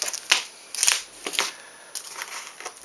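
Scissors or a blade cutting a short strip of tape on a CNC hot-wire foam wing's control surface, with several brief close snips and crackles spread irregularly over a few seconds, fairly quiet.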